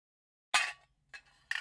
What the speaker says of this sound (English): Thems be ice cubes